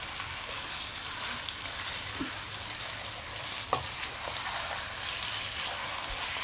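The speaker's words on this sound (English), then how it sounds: "So we will fry it for at least 5 minutes." Beef frying in a pan with a steady, quiet broadband sizzle and occasional faint scrapes of stirring, no voices.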